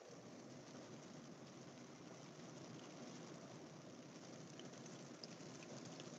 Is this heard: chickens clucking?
no